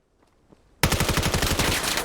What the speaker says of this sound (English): Shots traded back and forth.